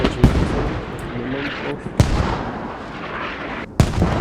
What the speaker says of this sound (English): mortars have been redirected accurately on the Hab